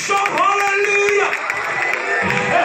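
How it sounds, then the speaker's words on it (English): A church congregation at a winter revival service erupts in loud, continuous crowd noise, with voices shouting and whooping over scattered clapping, filling the room with excited praise throughout. "Somebody clap your hands in here and shout hallelujah"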